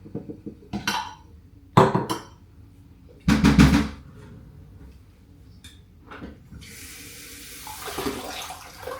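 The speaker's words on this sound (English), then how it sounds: "and I fill it with water." Tap water runs into a cup holding ice and a little sugar-free vanilla. A few clunks and knocks come first, then a steady rushing hiss of filling for the last few seconds.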